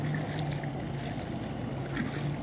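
A car pushes through knee-deep floodwater on a colony street after days of heavy rain in Khammam, a steady low rushing wash with wind noise, moderately distant and without talk.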